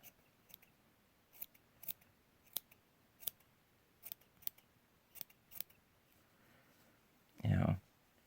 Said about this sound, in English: So what I would suggest is doing a lot of